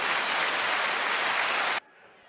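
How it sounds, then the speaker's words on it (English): A canned applause sound effect plays during a wrestling podcast, a dense, even burst of crowd clapping that holds at steady loudness, then cuts off abruptly into near silence. "to use the applause one more time"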